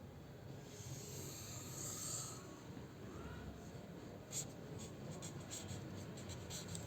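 Pen writing a total by hand on paper in a statistics table, steady faint scratching strokes close to the mic with a few brief taps, no talk.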